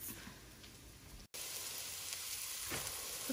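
Garlic sizzles in a pot for a Cajun-style seafood gumbo, a steady close frying hiss with a brief dropout and faint stirring, no talking.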